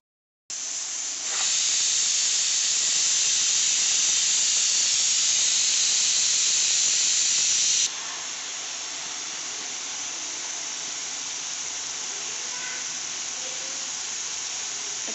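Pressure cooker of goat meat letting off a loud, steady steam whistle-hiss that runs unbroken for several seconds, then drops to a softer continuous hiss that carries on to the end.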